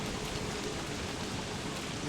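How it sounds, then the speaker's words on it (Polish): Heavy rain pours down in a video game during a downpour of frogs, a steady, even hiss of falling water with no breaks. "patrz jak leje ten deszcz"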